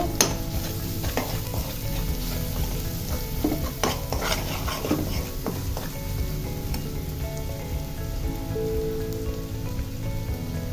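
Chili powder being stirred into rohu fish and red amaranth leaves frying in oil, giving a steady close sizzle with repeated scraping spoon strokes throughout.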